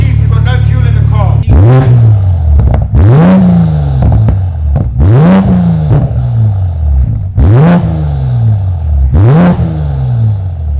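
Loud Toyota Supra engine revving hard in a series of about five sharp bursts, each climbing then falling back to a rumbling idle, close up, with voices talking underneath.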